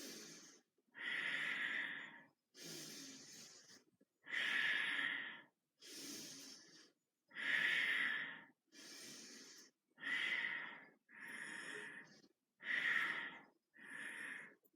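Deep, airy breaths are drawn and released during chi kung practice, about ten separate breath sounds in an even rhythm with short pauses between them, close to the microphone and with no talking.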